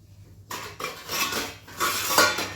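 Dishes and pots clatter and scrape as they are handled, with bursts of clinking metal and cutlery close by, starting abruptly and swelling in two busy stretches, no talk.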